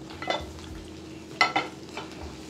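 Tomato being sautéed in a pan for an egg pepper fry, a soft steady sizzle with a few sharp stirring scrapes and clinks, close and fairly quiet, no voices.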